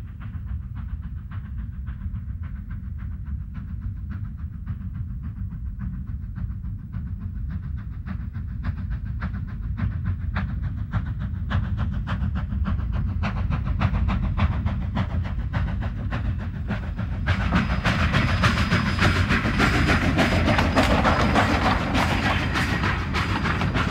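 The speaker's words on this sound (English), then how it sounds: "the engineers who operate the trains very slowly through the canyon" An American steam train creeps slowly through Rockwood Canyon, a low rumble with a steady clickety-clack of wheels over rail joints, swelling louder in the last few seconds as a broad hiss of steam joins in.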